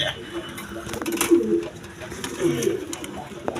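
A pair of high-flying Girbaz pigeons, a male and a female, coo softly in low repeated throaty notes, mid-distance, amid faint background clatter and murmur.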